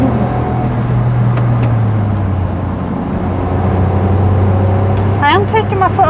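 A Smart ForTwo with a turbo engine accelerates while driving, a loud, steady low engine drone running throughout with rising whine near the end; a voice is heard in the cabin.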